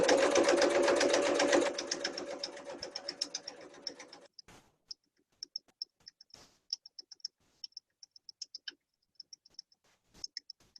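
A sewing machine stitches a fabric strap in a fast, steady run for about four seconds, then stops; scattered light clicks and ticks follow in the quiet.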